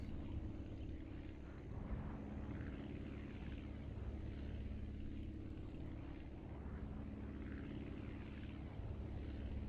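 Propeller aircraft in the Aviassemble flight game cruising near 100 miles an hour, a steady continuous engine drone with low harmonic hum, holding constant loudness throughout with no talking.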